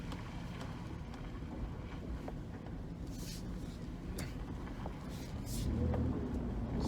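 A pickup truck driving off-road through mud in low gear, a steady low engine rumble mixed with wind buffeting the microphone, swelling louder near the end.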